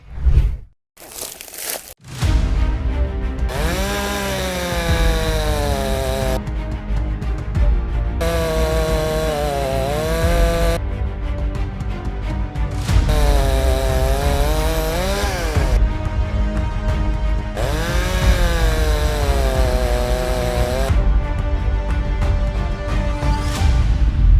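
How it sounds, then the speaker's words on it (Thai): A NASH N CS5200 chainsaw cuts into a tree, roaring loud and close after a sharp start, its engine pitch rising and sagging under load in repeated long bursts with brief pauses between cuts. "เดี๋ยวเราไปดูกันว่าใช้งานจริงจะเป็นยังไงจะตัดต้นไม้ได้จริงหรือเปล่าครับ"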